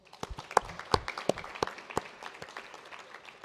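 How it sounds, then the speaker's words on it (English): A modest audience at a health disparities summit gives itself a round of applause, scattered distinct claps from a few hands standing out over a thin wash of clapping, fairly near and tapering off. "Give yourselves a round of applause."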